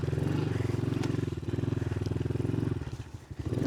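A dirt bike engine revs hard near the rev limiter in snow while its rear tire spins, a loud pulsing buzz with rapid firing beats that dips briefly near the end.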